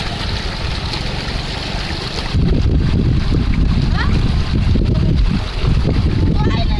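Water from the fields runs down a small stream with a steady outdoor rush, joined by wind buffeting the microphone; a voice talks over it.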